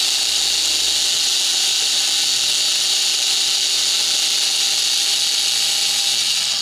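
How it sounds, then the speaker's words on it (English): A power drill spins steel wool inside the body of a Lee rifle reloading die, polishing the inner wall with a loud, steady high whirring hiss that holds unbroken throughout, close up. "start to polish up the inside"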